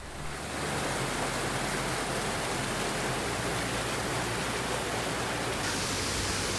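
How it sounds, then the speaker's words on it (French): A waterfall fed by a spring flowing out of caves in Turkey, a steady, dense roar of rushing water that swells up within the first second and then stays loud and unbroken. "J'ai percé le mystère de la cascade."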